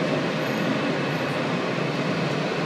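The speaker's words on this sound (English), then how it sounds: "Construction work happening on the subway lately." Steady, continuous low rumble of a subway train running through the underground during construction work, broadband and fairly loud with no break across the short stretch.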